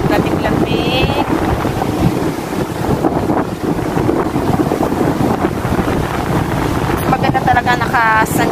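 Strong autumn wind blows at a cold beach in Constanta, Romania, roaring and buffeting the microphone without a break over crashing surf, with brief faint sounds poking through.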